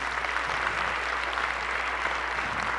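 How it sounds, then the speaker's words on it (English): An audience at a city State of the City event applauds steadily for a mayor, a continuous even wash of clapping with no break. "Can we give her another round of applause"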